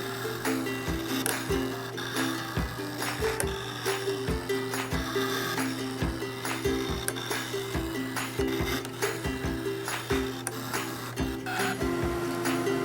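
A Brother ScanNCut machine cutting fabric on a high-tack support sheet gives a steady mechanical whir with regular soft clicks and scraping strokes, moderately quiet and unaccompanied.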